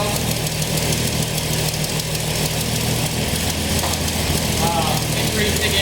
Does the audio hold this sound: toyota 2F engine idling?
yes